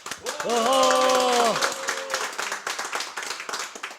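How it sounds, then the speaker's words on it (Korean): Audience clapping at the opening of a community group's workshop seminar, scattered claps running throughout, with a drawn-out vocal cheer ringing over them near the start before the claps thin out. "우리 큰 박수와 함께 시작하도록 하겠습니다"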